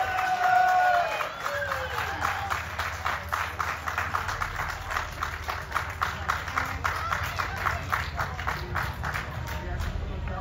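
An audience at the Nemšovský jarmok fair applauds after a performance by a band, with sustained, dense clapping and crowd noise that stays loud and even throughout.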